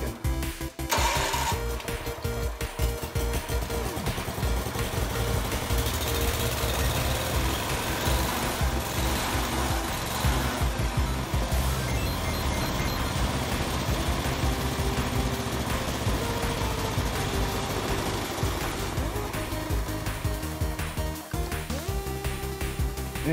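A Kohler cast iron engine on a Wheel Horse rototiller running steadily after a new fuel pump was fitted, a loud, close, continuous mechanical drone with a rapid firing rhythm that holds throughout, with no voices.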